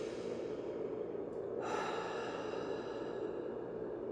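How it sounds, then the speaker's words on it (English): One long, slow inhale taken in a quiet room, close and soft, with no talk over it. "Take a big breath in again."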